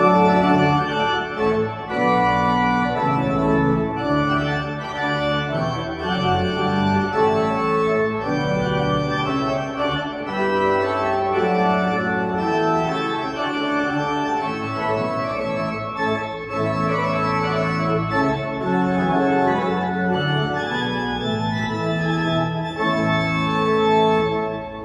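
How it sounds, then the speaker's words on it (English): Spirited, regal Baroque march closing the overture to a Handel oratorio, performed as a continuous ensemble piece at steady volume with no voices. "the final section of the overture is a spirited march"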